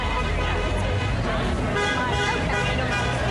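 Car horns honk from passing traffic outside the CDC headquarters in Atlanta as employees rally in a walkout protest, dense street noise and crowd voices mixing with the toots throughout.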